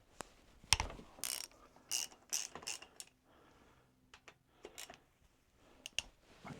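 A ratchet works on the valve cover bolts of a 1991 Honda VFR750, heard as close, crisp bursts of rapid clicking in irregular spurts, separated by short quiet gaps and a faint low hum.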